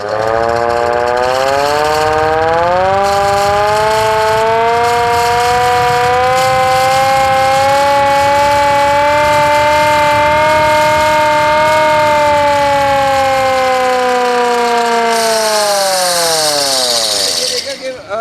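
A loud civil defence flood alert siren in Punjab wails continuously, its pitch rising slowly and holding before winding down at the end, with faint talk beneath.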